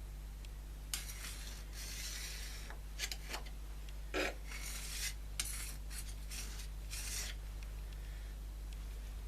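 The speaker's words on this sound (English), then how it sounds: "I'll just get a file on that." A hand file scrapes a few short, separate strokes along a Westgate Grafton planer thicknesser blade, close by but fairly quiet over a steady low electrical hum.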